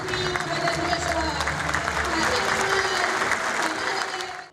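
A large crowd at a party congress claps steadily and loudly in sustained applause with scattered cheering, a dense wash of hands that holds strong before cutting off abruptly at the end.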